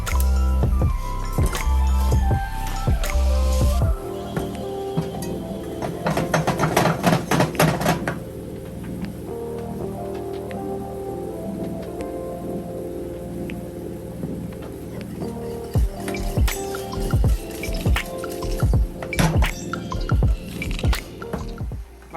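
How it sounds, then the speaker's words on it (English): A spoon stirs heavy cream reducing in a pan and scrapes fond from the bottom, giving wet squishing and irregular scraping taps over a steady low simmer, close by. "I'm just stirring, just getting all the fond off the bottom of the pan."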